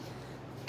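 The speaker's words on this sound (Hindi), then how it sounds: "खांसी मुझे शुरू हो गई है।" A woman with a sore throat from eating cold yogurt gives one sharp throat-clearing cough at the very end, loud and brief after near silence.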